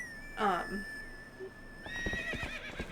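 A horse in the video game Legend of Zelda: Twilight Princess lets out a sharp, loud whinny near the start, and a voice speaks over game sounds afterward.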